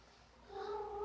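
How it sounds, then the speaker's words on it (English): A female cat in heat yowls in the background, a faint drawn-out rising cry that swells in the second half of a brief, quiet moment. "ignore my cat in the background. She's in heat, so she's going off."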